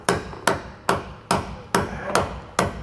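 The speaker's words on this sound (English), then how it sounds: "And we're just gonna baby tap it on in." Seven evenly spaced hammer taps on a socket driving a Dexter E-Z Flex suspension part into a 2021 Grand Design Imagine trailer, each a sharp, close metallic strike, about two per second, with no talk.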